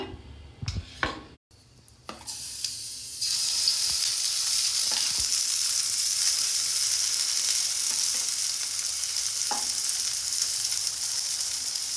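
Ghee hits a hot pan for uttapam, opening with a few pan knocks and scrapes before a loud, steady sizzle takes over and holds close and even to the end, with no talking.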